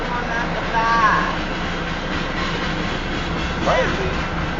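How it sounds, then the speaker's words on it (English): Union Pacific southbound tanker train rolling past a crossing north of Elkhart, Iowa, a loud steady rumble with faint squeals and clanks from the tank cars, heard close with people talking over it. "This train is just loud. Man, the tanker cars keep making weird noises."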